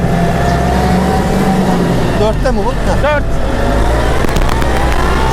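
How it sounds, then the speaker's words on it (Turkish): A Kubota MK5000 tractor engine revs hard under a loud, steady diesel roar, with rising and falling pitch sweeps as the throttle climbs; someone speaks briefly over it. "Ya şu ivme sesi çok hoşuma gidiyor ya."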